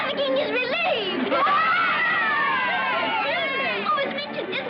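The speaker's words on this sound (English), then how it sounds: "Do you hear the cheering?" Excited crowd cheering and shouting in an old film scene, many high voices overlapping in a loud, continuous mass of cries and whoops throughout.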